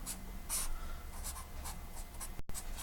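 A marker or chalk writes an equation on a board in a physics lecture, a close, scratchy run of short strokes and squeaks over a low room hum, with no talking.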